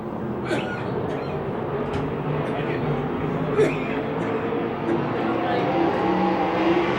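USAC/CRA sprint cars roar around the track at Phoenix during a heat race, a continuous loud engine drone from the pack with cars passing, under an announcer's running commentary.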